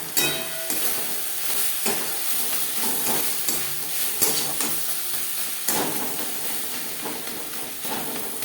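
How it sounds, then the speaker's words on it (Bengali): Spices, onion, salt and turmeric stirred in a hot pan for a Rui fish curry, with repeated scraping strokes over a soft steady sizzle, close and clear with no talking. "মশলা ও পেঁয়াজের সাথে লবণ হলুদ বেশ ভালো করে মিক্সড করে দেব"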